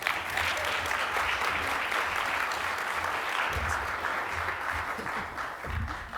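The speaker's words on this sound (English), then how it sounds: "Let's give a round of applause for Dr." Warm, sustained applause from a conference audience at a morning innovation summit, steady and dense throughout the room with no voices over it.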